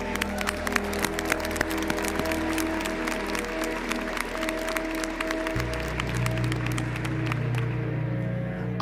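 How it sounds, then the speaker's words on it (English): Audience applause for the graduating class of 2024 at a Syracuse University commencement ceremony, a dense steady wash of clapping from a large crowd that continues without pause under a low hum. "Let's give them a hand"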